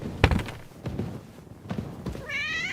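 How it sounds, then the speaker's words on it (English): A cat meows once near the end inside a building in the video game Kingdom Come Deliverance 2, a short rising call that follows a few soft thuds and footstep-like knocks. "Oh, it's a cat."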